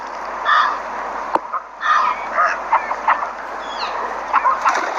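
Crows cawing repeatedly outdoors, several harsh calls at moderate distance with irregular timing over steady background ambience.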